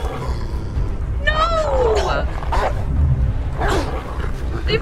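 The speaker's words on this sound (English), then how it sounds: "We gotta fight the dogs?" Hostile dogs snarling and barking in Beyond: Two Souls, growling yelps and a rising howl-like cry over a dense, rumbling game soundtrack, with a voice talking in parts.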